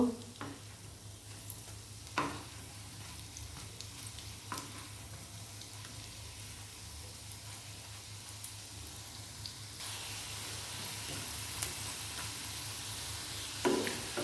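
Steady sizzling of fish roe fritters frying in hot oil, with occasional soft clinks and scrapes of stirring; no talking.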